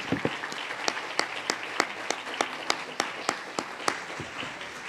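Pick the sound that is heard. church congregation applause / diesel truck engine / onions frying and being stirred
church congregation applause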